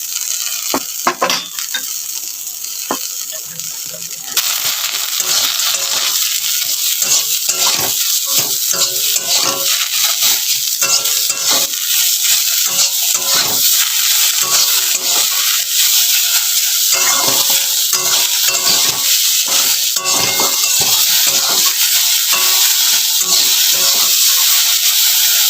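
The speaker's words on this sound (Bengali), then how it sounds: "আলুতে দিয়ে দেব অল্প হলুদ আর নুন দিয়ে আলুটাকে একটু ভেজে নেব" Potatoes fry in a pan with turmeric and salt, giving a steady, close sizzle with frequent scraping stir strokes throughout and no talking.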